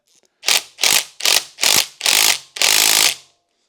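An impact gun working a stubborn bolt fires six loud, close rattling bursts, five short hammering pulses in quick succession followed by one longer sustained burst, each separated by brief silence.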